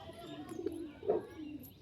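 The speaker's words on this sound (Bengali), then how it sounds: "তিনশোর কাছে পায়রা আছে দেখুন" Pigeons cooing in a home loft holding close to three hundred birds, a soft, low, rolling coo rising and falling over nearly two seconds, close and moderately loud, with no talk over it.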